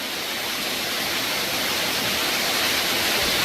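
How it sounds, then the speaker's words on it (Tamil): Aiyya Falls pours in a dense, steady roar of rushing water, loud and close, unbroken for several seconds without any voices. "தண்ணி சூப்பராக வந்துக்கிட்டு இருக்கு"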